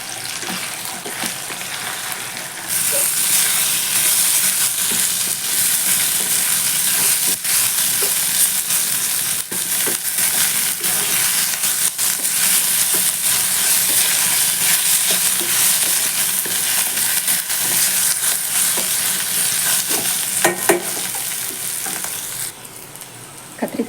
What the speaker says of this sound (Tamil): கத்திரிக்காய் வதங்கிட்டுருக்கு